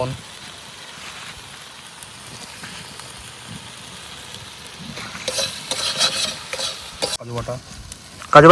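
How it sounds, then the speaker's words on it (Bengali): Cashew paste being stirred and sautéed in a pan for paneer butter masala, a soft steady sizzle with scraping stirs that grows louder and busier toward the end. "কাজু পেস্ট এটা কতক্ষণ লাগবে কষাতে"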